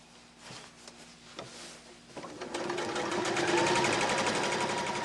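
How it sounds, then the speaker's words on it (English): A sewing machine stitches along a chalked line on flat fabric for a beginner's bag, starting with a few short bursts and then running steadily and loudly in a continuous close-up whir. "I'm going to make sure everything is nice and flat as I stitch."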